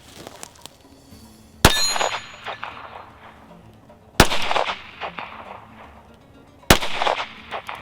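Three loud 9mm pistol shots spaced a few seconds apart, each a sharp crack followed by the ringing clang of ejected brass cases bouncing and settling, with quiet gaps between.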